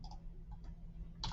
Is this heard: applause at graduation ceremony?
no